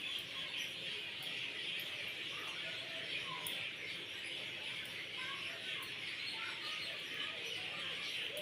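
Birds call faintly in the evening outdoors, scattered chirps over a steady hiss of background noise, distant and continuous.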